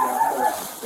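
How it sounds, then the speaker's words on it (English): A dog inside a family house gives a short, close whining yelp that lasts under a second, with no other voices. "the family has 2 dogs in the house"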